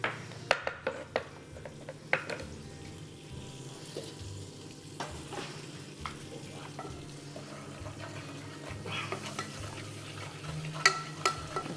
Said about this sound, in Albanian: Të do skuqim sa ajo të lëshoj aromë.